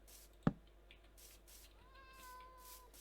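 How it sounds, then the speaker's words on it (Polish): Cat meowing in the Minecraft video game: after a sharp click, a single drawn-out tonal meow rises midway and holds for about a second at moderate volume, with no talking. "Koty gdzieś tutaj są."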